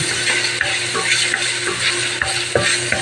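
A hotdog sizzles and browns in a frying pan, a steady crackling fry broken by scraping stirs and light taps of a utensil against the pan.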